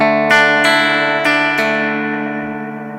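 Decaying repeats from an Xvive Echoman Mini analog delay pedal on a guitar, a sustained harmonic wash with a few soft rhythmic echo pulses that slowly fade, heard alone and close.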